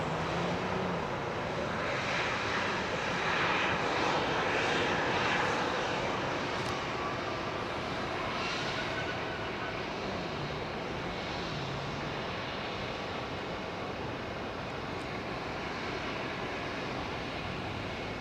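A jet airliner roars steadily on arrival at London Heathrow runway 27R, a broad, sustained engine rumble that holds loud and even for the whole stretch, with no voices.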